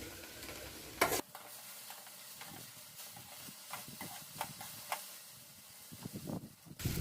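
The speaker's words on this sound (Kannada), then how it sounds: "ಈ ಕಡೆ ಬೆಂಡೆಕಾಯಿ ಹುರಿಯಾಕತ್ತೀನಿ" Okra fries in oil in a home kitchen pan, a steady close sizzle with intermittent scraping and stirring clatter, plus a loud utensil knock near the start and again at the end.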